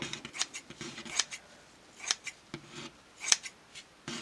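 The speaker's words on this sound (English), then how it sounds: "I can just take the scissors and chop it like so." Sharp, close scissor snips cutting elastic, several quick cuts spaced irregularly, each a crisp metallic chop with a slight rasp, in an otherwise quiet room.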